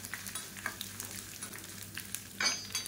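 Curry leaves crisping in hot oil give off a faint, steady sizzle with soft crackles and an occasional stirring clatter.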